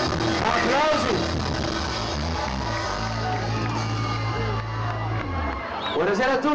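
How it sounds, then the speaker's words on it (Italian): An outdoor concert crowd in Sant'Anastasia cheers and shouts continuously, a dense steady roar with whoops and yells rising throughout, with voices mixed in. "applausi."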